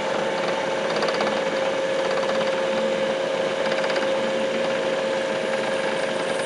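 A small rotary drill bores a hole through a rock for jewelry, giving a steady, continuous whine with a fixed tone held loud and unbroken throughout.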